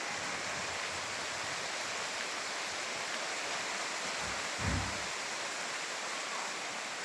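Heavy rain pouring down during a hot season, a dense, even hiss of falling water that stays constant throughout, with a brief low thud near the middle and no one talking.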